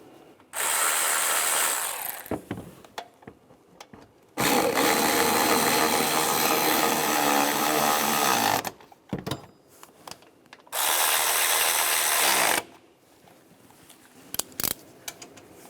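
Power tool run on throttle position sensor bolts of a 1999-2006 Chevrolet Silverado 1500: three loud, close bursts of whirring, rattling ratchet-like drive with brief clicks and handling noises between them, no talk.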